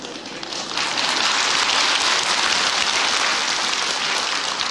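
A theatre audience at a 1987 Arkady Raikin stage production breaks into loud, sustained applause, a dense wash of clapping that swells within the first second and holds steady to the end.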